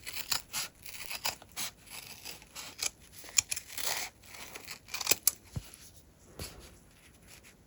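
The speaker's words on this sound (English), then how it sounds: "Trim off the extra felt." Scissors snip away extra felt in a close, quiet run of crisp cuts and slicing strokes, some sharp clicks where the blades close, no voices.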